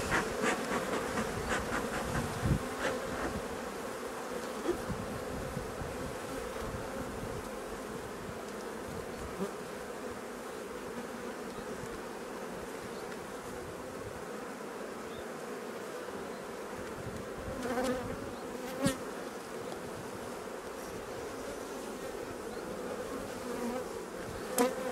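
Honeybees buzz steadily around open hive supers during an inspection, a dense, continuous close-up hum with a few sharp knocks of handling.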